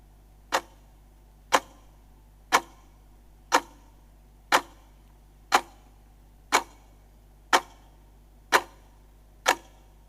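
A countdown clock at a cricket league player draft ticks steadily, about one sharp, loud tick per second, ten evenly spaced ticks over a low steady hum with no talking.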